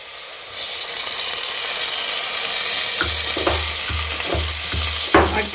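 Ginger and garlic frying in a pan give a loud, steady sizzle with a sharp burst at the start, joined later by a few rhythmic scraping stirs, with no talking.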